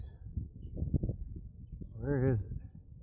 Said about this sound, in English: Don't see the bird that made that weird noise.